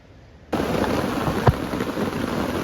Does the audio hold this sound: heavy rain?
yes